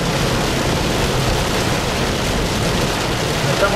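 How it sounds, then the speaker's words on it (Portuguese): Heavy rain pours on a road while driving, a dense, steady roar of water hitting the car, loud and continuous with no gaps. "Será que a chuva aperta?"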